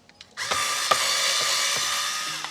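Power drill driving side screws into the dashboard of a 10th-generation Honda Civic during a stereo install: a close, loud, steady whine that spins up after a couple of faint clicks and runs for about two seconds with a brief catch midway.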